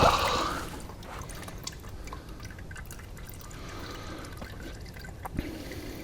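Oil drips from a loosened oil filter on a BMW R1200 GS motorbike, with faint irregular drips and soft liquid ticks after an initial louder splash, close-up against a quiet garage background.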